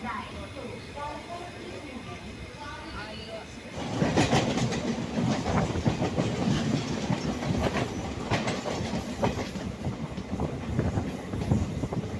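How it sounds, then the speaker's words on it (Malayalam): A crowded Palaruvi Express passenger train pulls into Aluva railway station, its steady rumble swelling partway through into loud, rhythmic wheel clatter and clacking, while a voice speaks over it. "നമ്മുടെ വണ്ടി ഇപ്പോൾ ആലുവ റെയിൽവേ സ്റ്റേഷനിലോട്ട് എത്തിയിരിക്കുകയാണ്"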